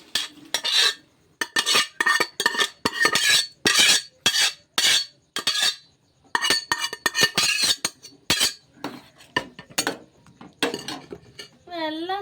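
Cooked chickpeas and onions for kadala curry go from a pressure cooker into a metal pan, with a busy run of close metallic clinks, scrapes and spoon knocks in quick irregular bursts separated by short pauses.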